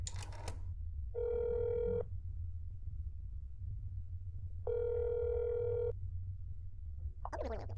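A telephone rings twice in a neighbor-checking horror game, two long electronic rings separated by a pause over a low background hum, with a brief sound at the start and end.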